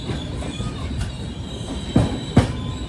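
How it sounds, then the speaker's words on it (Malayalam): A RoRo goods train carrying lorries rolls past on the Mandovi Express route between Madgaon and Mumbai, a steady loud rumble of wagons with two sharp wheel clanks near the end. "ട്രെയിനിൽ ലോറി കയറ്റി കൊണ്ടുപോകുന്ന ഒരു കാഴ്ച."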